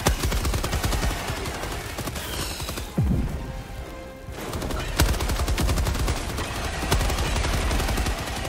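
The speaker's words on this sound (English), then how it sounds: "the machine gun, you definitely need to, like, sit still and do, like, burst fire" Dense, rapid machine gun fire in the video game Helldivers 2, loud and close, fired in sustained bursts with a short lull in the middle before the shooting resumes.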